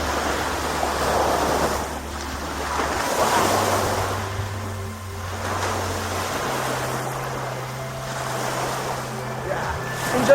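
Sea waves wash onto the shore of La Manok Island in Masbate, Philippines, in slow repeated surges of rushing surf, swelling and receding about every few seconds, with wind noise and low background music.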